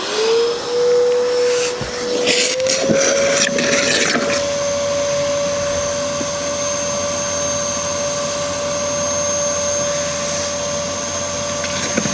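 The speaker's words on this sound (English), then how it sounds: "so let's get this vacuuming done" Pond vacuum sucking debris from the bottom of a koi pond, a loud continuous motor whine with a steady tone, broken early by a few clattering bursts, then running on evenly.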